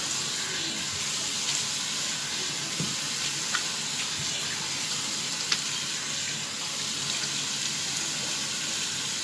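Lukewarm tap water runs steadily while a face is rinsed, a continuous close hissing splash with faint irregular drips and spatters throughout.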